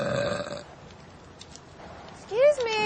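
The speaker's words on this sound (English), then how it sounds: "She burps so much." A woman burps after drinking champagne, a loud voiced belch at the start followed by quieter murmuring and a short rising vocal sound near the end.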